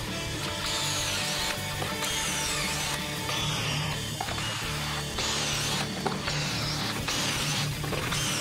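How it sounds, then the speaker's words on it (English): Drilling pocket holes in wooden stretchers with a Kreg pocket hole jig: a continuous whirring power drill with repeated surges and mechanical chatter, loud and close, with no talk. "I used my handy Craig pocket hole jig to put some pocket holes on the ends of the stretchers"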